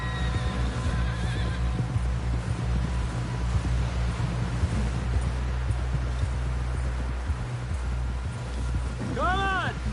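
A horse whinnies loudly near the end amid steady hoof clip-clop, wind and outdoor rumble, with voices talking throughout.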